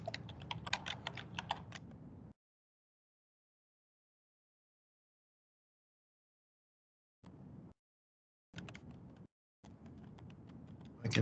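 Close computer keyboard typing while entering data into Excel, a dense patter of keystrokes, a long silent gap, then several short bursts of clicking.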